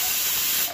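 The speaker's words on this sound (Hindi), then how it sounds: "तेल गरम कर दूंगी, फिर इसमें राई डालूंगी" Mustard seeds dropped into hot oil for sambar give a sudden, loud, close hiss and sizzle that fills the whole brief moment, with no talking.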